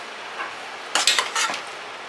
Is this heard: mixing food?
yes